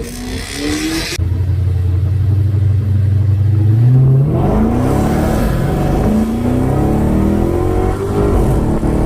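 Loud Ford Mustang engines rev hard on a drag strip, their pitch climbing in repeated sweeping runs through the gears as the cars launch and pull away, with no talking over the roar.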